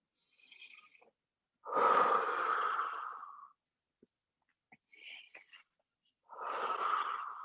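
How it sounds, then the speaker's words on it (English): Deep breathing during a stretching session: a short breath, then a long, loud exhale, a pause with faint small sounds, and another long, airy breath. Each breath is close and heard alone. "Inhale and exhale."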